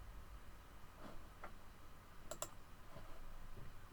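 Mouse clicks in Mightygrep search software, a couple of quick sharp clicks close together over faint background hiss, no talking.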